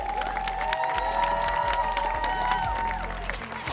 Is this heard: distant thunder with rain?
no